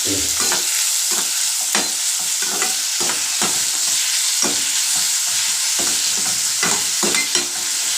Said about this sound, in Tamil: இப்போ தக்காளி வெங்காயம் கொஞ்சம் அரை வயது வதங்கட்டும்